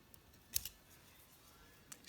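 Scissors snip a thread end during fly tying on a NASA Perdigon nymph: one quiet, sharp double cut near the middle, with a fainter snip near the end, in an otherwise quiet room.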